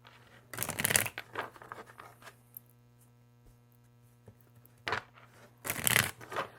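Bursts of a Carol Herzer tarot-style card deck being shuffled, two loud riffling flurries at the start and end with softer handling in between over a low mains hum.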